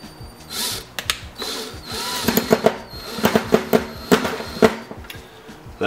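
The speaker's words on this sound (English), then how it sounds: "I'm going to attempt to drive some damaged screws with a big box bit." A power driver turns damaged screws with a large Knife Edge box bit, whirring in short bursts with ratcheting clicks and sharp mechanical chatter as the bit bites, loud and close.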